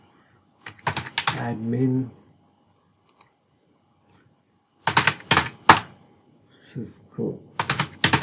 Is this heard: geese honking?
no